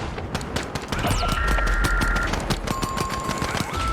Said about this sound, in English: Those turrets are going to be the death of me.